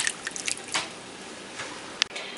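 Water drips and splashes with soft squishy handling while corn is washed for Haitian chaka, a few sparse close drops and wet movements over a quiet background.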